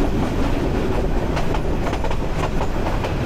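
Passenger train running from Chittagong toward Sitakunda, heard from inside the carriage as a loud, steady rumble with rhythmic clickety-clack of wheels over rail joints throughout.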